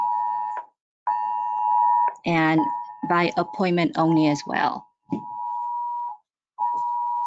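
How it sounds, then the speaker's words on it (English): Phone emergency alert beeping during a board meeting: a steady, loud, high-pitched tone repeating in long pulses with brief gaps, continuing while a person speaks over it. "there's an emergency thing on my phone"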